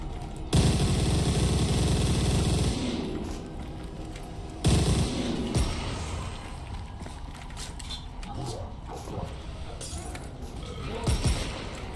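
Bursts of MG42 machine-gun fire in a World War II video game, loud and rapid, with a long sustained burst, then a second one, followed by scattered shots and clatter. A voice talks over parts of it.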